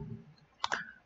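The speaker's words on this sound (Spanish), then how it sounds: "lo guardo, le doy doble clic" A computer mouse double-clicks, two quick sharp clicks close together, near and alone in a quiet room.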